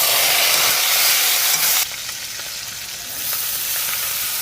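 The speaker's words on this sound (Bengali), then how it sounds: "কিছু গোটা জিরে আর শুকনো লঙ্কা ফোড়নে দিয়ে দিলাম একটু আদা কুচি দিয়ে দিচ্ছি কাঁচা লঙ্কা চেরা" Whole cumin, dry red chillies, chopped ginger and slit green chillies spit in hot oil, a loud close sizzle that drops suddenly partway, then carries on as a steady hiss and crackle.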